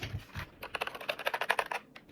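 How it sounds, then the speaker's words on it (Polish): Quick bursts of clicky keystrokes on a SteelSeries Apex 9 TKL mechanical gaming keyboard patter at close range, a rapid uneven flurry that trails off near the end. "ten dźwięk tej klawiatury"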